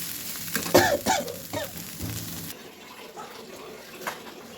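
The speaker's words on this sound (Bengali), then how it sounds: "আলু ভাজিটা হয়ে গেছে একদম লাল লাল করে ভেজে নিয়েছি" Potatoes frying in a pan, a steady broadband sizzle with a few louder crackling bursts early on, then a quieter, softer hiss for the remainder, with no voices.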